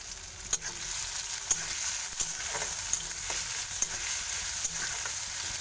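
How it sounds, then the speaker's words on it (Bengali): Steady sizzle of onions frying in hot oil, with occasional sharp clicks of stirring, close and continuous; no voices. "পেঁয়াজটা ঠিক এরকম হালকা ভাজা হবে"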